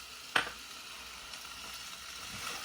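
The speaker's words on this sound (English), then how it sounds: "Put my mushrooms in. Got a little bit of green onions as well that I'm going to put in a few" Mushrooms and green onions hit a hot stir-fry pan with a sharp crackle, then settle into a soft, steady sizzle, close and quiet, with a light scrape near the end.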